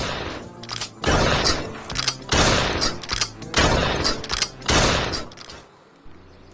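Repeated gunfire in a Western-themed zombie shooting gallery on PSVR, five or six loud, broad bursts spaced about a second apart, each ringing briefly before the next shot, with no voices.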